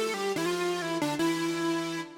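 A melodic techno synth lead built from detuned square waves plus a square-wave sub oscillator an octave lower plays a few sustained notes with sharp steps between them, clean and alone.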